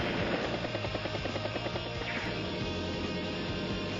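Battlecopter helicopter units in Advance Wars: Days of Ruin, a steady low buzzing rotor drone with fast chopping pulses, held at an even level for about four seconds without talk.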